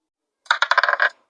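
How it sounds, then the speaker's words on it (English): Dice rattling in a Ludo video game: a quick run of about eight sharp clattering clicks over roughly half a second, close and clear, ending with a single soft tap. "Roll the dice."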